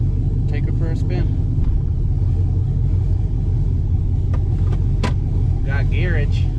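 An LS-swapped squarebody Chevrolet Suburban on its first test drive, with a steady engine rumble and road noise running throughout. Voices talk over the drive.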